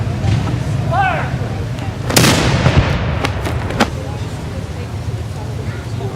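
A single cannon salute shot on the Fourth of July, a booming report with a sharp onset and a fading rumble, followed by a few smaller cracks, heard under the voices of people giving commands and narration outdoors.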